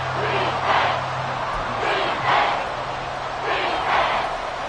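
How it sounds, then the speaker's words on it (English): Football stadium crowd roaring in a steady wash, swelling in three broad surges as a big third down approaches, with a low hum running underneath throughout. "The crowd getting into it as we come up on a big third down."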